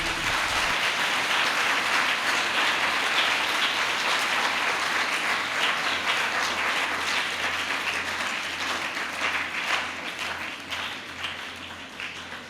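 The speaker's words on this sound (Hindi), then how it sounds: "ज़ोरदार तालियां लगाएं" A church congregation at a Holy Thursday service applauds loudly and continuously, the dense clapping slowly thinning and fading toward the end.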